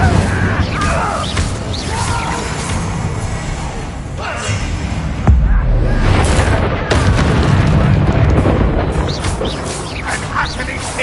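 Fire spell cast in Hogwarts Legacy amid combat, loud booming bursts and crackling blasts layered over game music and effects, with a voice calling out between the explosions.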